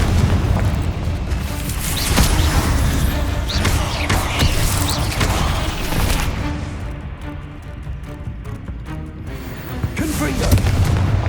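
Spell explosions in the Hogwarts Legacy video game, a run of heavy booms and blasts in quick succession over a dense, loud combat din, with voices shouting spells amid the noise.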